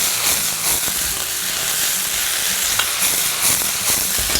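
Cabbage and water go into a hot wok, bursting into a loud, dense sizzle and hiss of frying that stays strong and steady, with small scraping and stirring knocks underneath.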